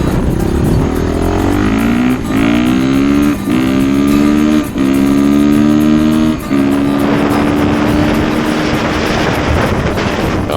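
A Honda 450 RX motocross bike, mapped in easy mode with a progressive throttle and heavier flywheel, revs loudly and close up, climbing through several gear shifts with brief throttle dips before settling into a steady roaring pull.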